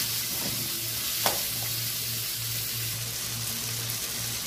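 Ingredients for a fish curry sizzle steadily in a hot pan, a close, even frying hiss with an occasional stir, and no voices.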